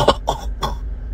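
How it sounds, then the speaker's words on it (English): A man gives three short, loud, close coughs in quick succession, harsh and throaty, with brief gaps between them. "If I cough,"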